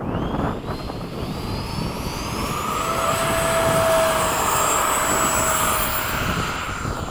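A Freewing 80mm MiG-21 RC jet takes off at an airfield after sunset with a rising, continuous electric ducted-fan whine that swells and holds loud, then eases slightly, a steady high-pitched roar with no talking.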